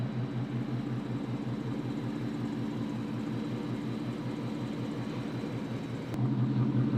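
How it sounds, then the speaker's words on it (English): A blacked-out Roush sports car engine idles steadily with a low, throbbing rumble, close by and continuous, with a brief sharp click near the end. "Car sounds so good"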